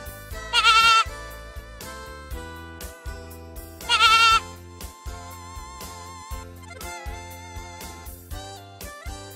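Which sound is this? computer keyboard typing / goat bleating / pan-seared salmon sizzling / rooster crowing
goat bleating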